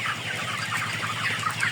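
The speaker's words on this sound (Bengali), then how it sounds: "ভিডিওতে যে মুরগিগুলো দেখতেছেন এগুলো হচ্ছে লেয়ার পুলেট মুরগি" A flock of 65-day-old layer pullet chickens, about 3000 birds on a poultry farm, clucks in a dense, continuous chorus, close and fairly loud, with no talking.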